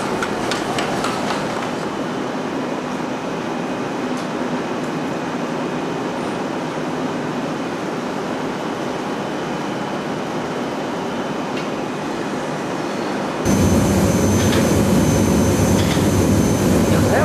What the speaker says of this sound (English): These cups right here are getting ready to go into the burnout furnace.